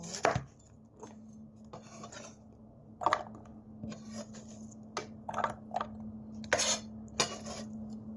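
A knife chops spring onion on a board, a series of close, irregular sharp knocks with short pauses, over a faint steady hum.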